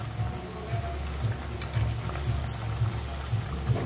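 Yam pieces frying in hot oil for a spiced masala fry, a steady dense sizzle and crackle like light rain, close and even, with no voices over it.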